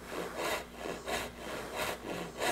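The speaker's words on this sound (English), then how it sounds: "I just let the saw run" A hand saw cuts wood in steady back-and-forth strokes, about five rasping pulls, close and fairly loud.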